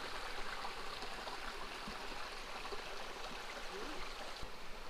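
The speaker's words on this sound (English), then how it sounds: "And this is the Warren River, and it does flow all the way out to the ocean." The Warren River flowing at a river crossing near Pemberton, Western Australia: a steady, broad rush of moving water fills the scene evenly and continuously with a few faint knocks.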